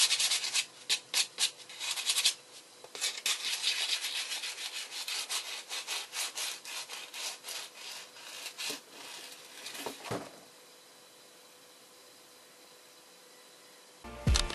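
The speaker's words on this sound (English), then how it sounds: "the sanding, oh boy, the sanding drives me absolutely" A cosplay Phantom mask is sanded by hand in quick, rhythmic back-and-forth strokes, close and scratchy, for about ten seconds before falling to near silence with a final brief scrape.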